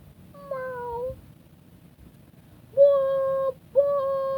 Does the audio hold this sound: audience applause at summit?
no